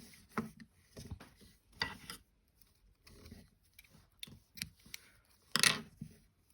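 Scissors snip through crochet yarn on a small daisy flower, a series of short, close, quiet cuts and rustles spaced irregularly, with one sharper snip near the end.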